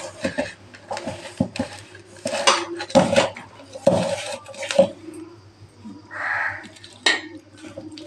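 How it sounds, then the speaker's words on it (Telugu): Raw chicken pieces are stirred and mixed with a utensil in a metal pot, giving irregular scrapes, clinks and soft squelches up close, with quiet gaps between strokes. "ఇదిగో చికెన్ వేసాను. బాగా కలుపుతున్నాను"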